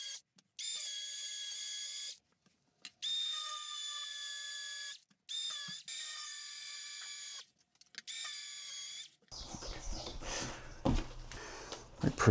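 Power drill pre-drilling holes for a shower door U-channel, several loud whining bursts stopping and starting with short gaps, followed by clattering handling noise near the end.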